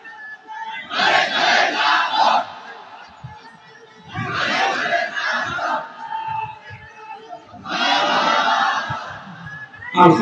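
Large outdoor crowd at an Islamic religious gathering in Dinajpur shouting the takbir in unison, three loud swelling chants separated by brief pauses, heard from a distance and echoing.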